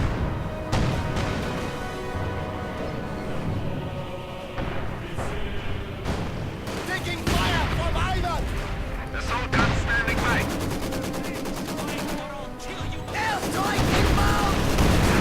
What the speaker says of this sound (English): And an airstrike. Looks like might be a bombing run.